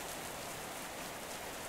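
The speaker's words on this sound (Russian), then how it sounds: "Этот звук дождя, да?" Video game rain falling steadily, a dense even hiss of drops with no voices, constant in level throughout.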